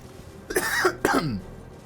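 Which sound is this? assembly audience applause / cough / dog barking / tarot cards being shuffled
cough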